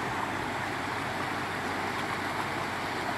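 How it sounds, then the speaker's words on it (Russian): The Srednyaya Zolotikha mountain river rushes steadily with a dense, even roar of flowing water and no voices. "Горная река."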